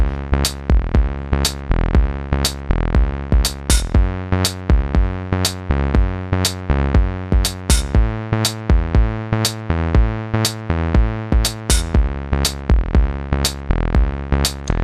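A repeating synth bass line with steady rhythmic notes, looping evenly and loudly for the whole stretch with no voices.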